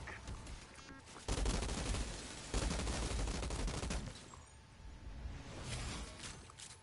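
Sidearm gunfire in a jungle video game scene gives dense bursts of rapid shots. The firing is continuous and fairly loud, with stronger surges around the middle.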